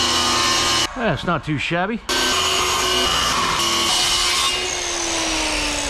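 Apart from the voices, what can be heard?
circular saw cutting wood on a boat build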